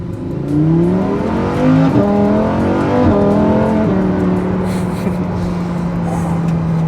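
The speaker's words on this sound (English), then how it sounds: "That DCT shifts so fast." A Lamborghini Huracan EVO's V10 engine pulls hard from inside the car, its tone climbing through rapid dual-clutch upshifts, each shift a quick drop in pitch before it rises again, then settling into a steady drone.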